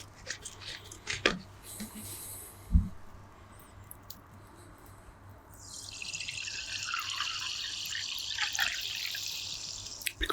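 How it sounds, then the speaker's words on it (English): Water is poured into a glass in a quiet room, a soft steady stream lasting several seconds after a few faint clicks and taps. "let me pour in some water."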